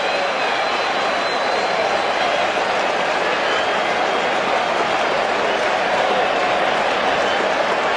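A baseball stadium crowd, with the Yankee fans among them, keeps up a steady roaring cheer at a two-strike count during a 2008 Mets game, a dense wall of distant voices that never lets up.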